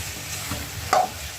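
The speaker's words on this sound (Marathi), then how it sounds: "आता मी मिक्स करते" Duck curry with chili powder and spices being stirred in a pan, a soft scraping sizzle with one brief louder clink of the spoon near the end, close and alone.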